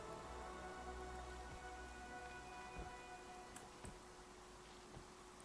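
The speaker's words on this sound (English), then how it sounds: "I guess the rain is getting lighter" Light rain falling in the video game Pathfinder Kingmaker, a soft steady patter with occasional drop ticks over a low ambient hum, quiet and continuous with no talk.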